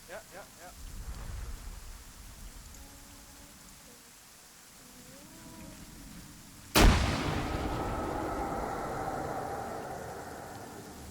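A grenade explodes in Arma 3 with a sudden loud blast, followed by a long rumbling, crackling tail, after a stretch of quieter ambient noise and faint voices.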